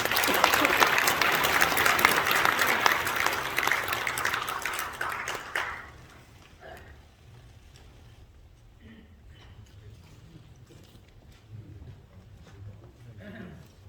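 Hearty applause breaks out at a church association general assembly as a commemorative photo album is presented, a loud burst of clapping lasting several seconds before fading into quiet room murmur and low voices.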